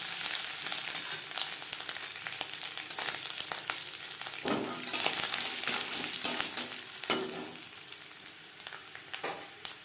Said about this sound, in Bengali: চপের জন্য পুর তৈরি করার জন্য সবার প্রথমে আমি নারকেল ভেজে নেব।